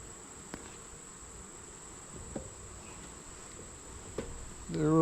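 A soft, steady buzz of a few honey bees on a frame during an August hive inspection, faint and continuous with no talk and a louder hum rising at the end.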